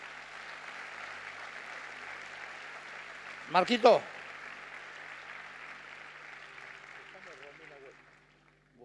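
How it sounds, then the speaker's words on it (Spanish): A church congregation claps steadily through a Sunday morning service, the dense applause filling the whole stretch and fading near the end, with one voice briefly calling out midway. "Denle un aplauso fuerte a Dios."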